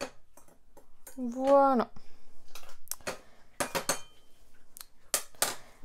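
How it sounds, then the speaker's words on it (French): A basic metal spoon mixing bath bomb ingredients in a glass gives sharp, scattered clinks and taps against the glass, interleaved with a person talking close by. "mélangez bien à l'aide d'une cuillère"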